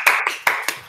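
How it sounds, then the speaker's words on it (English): Bursts of audience clapping at a flat-earth convention during the 2019 Globe Lie EU tour, four short loud surges of applause in quick succession, close and lively. "huge applause for you, mate"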